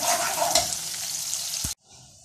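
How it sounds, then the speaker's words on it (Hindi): One medium chopped onion fries in half a cup of oil until browning, a loud steady close sizzle with a stir clink, cutting off abruptly into a quieter hiss at the end. "इसको ब्राउन करेंगे प्याज को।"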